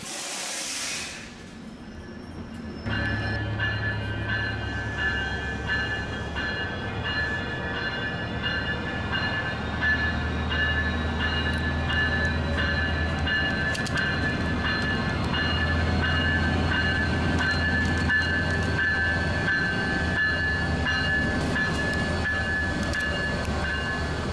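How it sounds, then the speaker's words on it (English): A commuter train rumbles and hisses as it slowly pulls away from a San Diego station, steady low engine drone with a sustained high whine and occasional clanks over about twenty seconds. "Coaster Train 673 makes an extremely slow departure out of San Diego to Oceanside."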